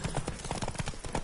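Horse hooves clip-clop at a steady trotting rhythm while riding in The Witcher 3: Wild Hunt, a quick series of soft thuds at moderate distance.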